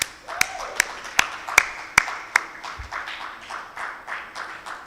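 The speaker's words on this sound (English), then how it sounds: "clap now" A conference audience claps in a steady rhythm to honor a speaker, with six sharp, evenly spaced claps ringing out before a softer run of pulsing claps follows.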